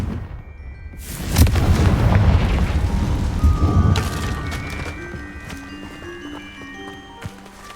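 A Confringo blasting spell in Hogwarts Legacy sets off a loud booming explosion after a short lead-in. It rolls out into a long, fading rumble with scattered crackles and no talk.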